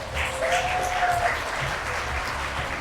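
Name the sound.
applause at a birthday party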